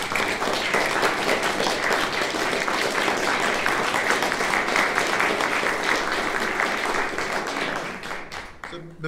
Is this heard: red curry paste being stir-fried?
no